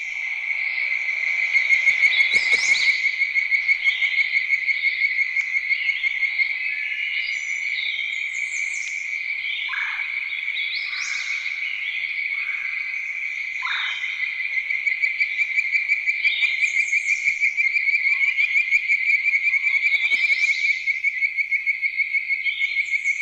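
A sustained, steady trilling frog chorus fills a night scene, with scattered bird calls from a red-eyed vireo, a hooded warbler and a red-bellied woodpecker breaking in over it; no voices are heard.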